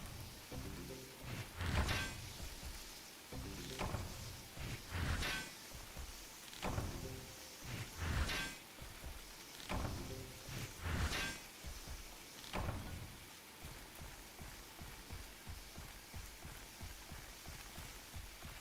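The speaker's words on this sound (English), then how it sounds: "There's no music, there's nothing, there's just rain." Steady rain ambience from the video game Monster Hunter, a continuous soft hiss broken by recurring low thuds and clunks, with no music and no voices.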